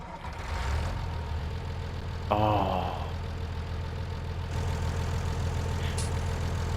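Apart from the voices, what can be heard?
tractor engine starting and idling in the video game Farming Simulator 19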